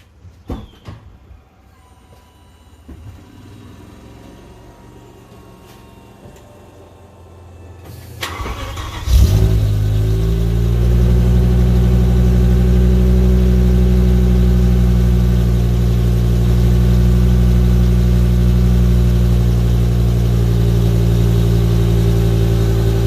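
A 2010 BMW E60 M5 V10 with no catalytic converters, an X-pipe and factory mufflers cranks and fires up about nine seconds in, then settles into a loud, deep, steady idle after quiet fumbling noises.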